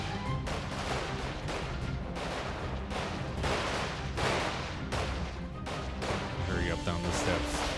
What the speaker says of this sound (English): I'm hearing shots everywhere.